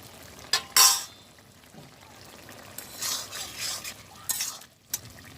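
A spoon stirring small-fish curry with ground cumin paste in a village pot, intermittent soft scraping and clinking strokes against the metal with a faint simmer underneath, no talk.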